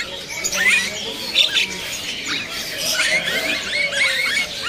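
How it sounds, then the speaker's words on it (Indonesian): A jalak kerio-rio starling at a bird market gives scattered high chirps and squeaky whistles over a busy, noisy background, with faint voices murmuring somewhere behind. "Ada juga di sini burung jala kerio-rio ya."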